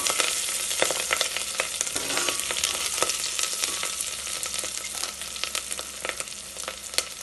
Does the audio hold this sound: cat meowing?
no